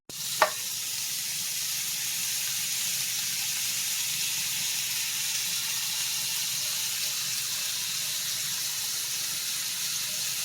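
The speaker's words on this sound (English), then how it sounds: "looks like our water is boiling" Steady broadband hiss and sizzle of water heating to a boil on a stove for grits, continuous and fairly quiet, with a brief clink near the start.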